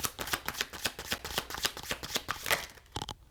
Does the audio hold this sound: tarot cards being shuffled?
yes